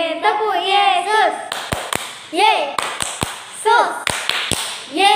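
Children at a Sunday school church service clap their hands in a rhythmic chant, sharp close claps in short bursts between sung and spoken lines from a leader and kids.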